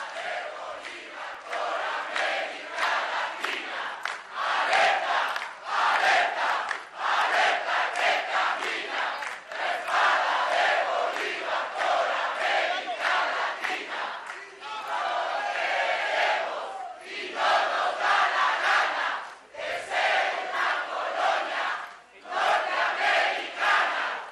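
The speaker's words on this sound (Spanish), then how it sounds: "fuerte el aplauso" A large crowd at a progressive political gathering in Ecuador applauds and cheers loudly and steadily, sustained clapping and shouting rising and falling in waves with brief dips throughout.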